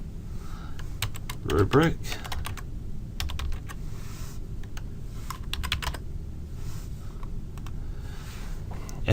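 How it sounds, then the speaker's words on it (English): Rapid clattering keystrokes on a computer keyboard tap out text in quick irregular bursts with short pauses, close and fairly quiet, while a voice speaks briefly near the start. "we'll type a description of what this is for"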